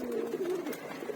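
A racing pigeon coos once in a loft, a close, soft, rolling call heard alone.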